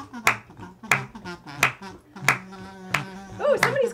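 A lone person claps along during a charity gaming livestream, sharp single claps spaced in a slow, even rhythm, close and distinct, with people talking between and over them.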